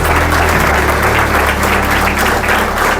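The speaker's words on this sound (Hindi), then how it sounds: "जोरदार ताली बजाकर आप परमेश्वर की महिमा करें" Loud applause from a church congregation fills the room, steady and dense throughout, with a low hum underneath and no speech.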